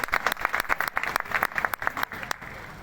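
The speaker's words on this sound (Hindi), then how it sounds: "जी ताली से स्वागत के साथ ही" Sharp, close hand claps from an audience welcoming a speaker at a district gathering, a dense run of crisp applause that thins out toward the end.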